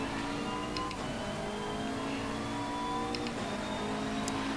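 A McLaren race car engine in the Assetto Corsa Competizione racing game drones steadily at high revs, holding a constant whining tone throughout with faint clicks, no talking.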